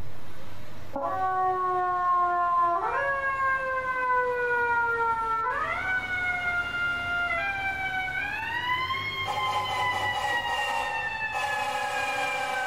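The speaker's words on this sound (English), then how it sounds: "Like that horn. That horn sounds really good" An FDNY fire truck responding to a Manhattan hazmat call wails with its siren, the tone sweeping upward in repeated stepped climbs, steady and fairly close throughout.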